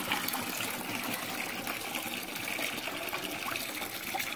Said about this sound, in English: Here comes the coolant.